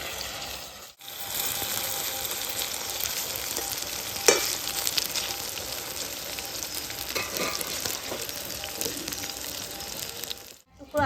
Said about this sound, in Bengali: তেল গরম হয়ে গেছে, আমি সবগুলো সয়াবিন একসাথে দেব না, আমি অল্প অল্প করে দিয়ে ভেজে নামাবো।